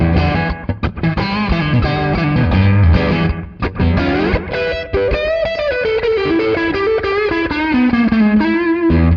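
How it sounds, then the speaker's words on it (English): Distorted electric guitar solo run through a delay pedal, loud and sustained, with bending lead notes trailed by echoing repeats over a thick, saturated tone. "It's almost like an echo, but it'll just add some oomph to your solo."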